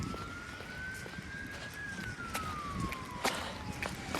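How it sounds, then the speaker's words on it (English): A single siren wails in a slow rising and falling sweep, fairly distant, over steady background noise of very wet weather on a Toronto street, with occasional sharp knocks. "And another siren."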